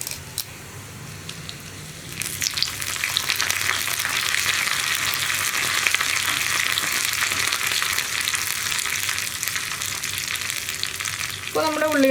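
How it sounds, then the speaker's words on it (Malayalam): Curry leaves hit hot oil in a pan with onions for a Kerala parippu cabbage curry, setting off a loud, steady crackling sizzle that swells after a quieter start and continues close up without talk. "ഇനിയിപ്പോൾ നമുക്ക് കറിവേപ്പില ചേർത്ത് കൊടുക്കാം."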